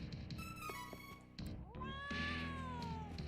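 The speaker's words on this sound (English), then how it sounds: "Whoa, a cat." A cat meows repeatedly in the game Trials of Mana, bright rising and falling cries stacked over steady game music, fairly close and clear.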